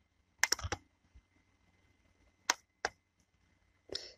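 A computer mouse click while working through an online internet-essentials exam on a PC, heard as a few sharp, quiet clicks spaced apart in a near-silent room.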